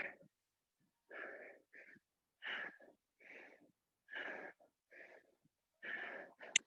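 Sharp, effortful breaths during an exercise set, short bursts of exhaling and inhaling roughly every half second to a second, close and clear with no talk over them.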